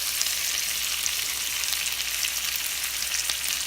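Salmon fries in melted butter in a pan with poblano pepper and onion, giving a loud, dense, continuous sizzle close up with no talking.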